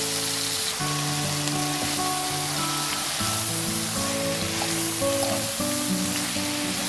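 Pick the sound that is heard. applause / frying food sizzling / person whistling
frying food sizzling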